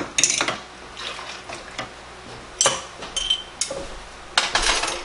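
Hot glass canning jars knock and clink together as they are handled for packing peas, a series of close sharp glassy taps and clatters with brief quiet gaps between.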